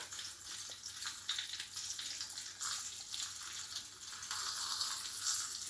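12% cream is poured over seasoned catfish pieces in a baking dish, making a soft, continuous liquid pouring and trickling sound that holds steady throughout at low level, with no talking.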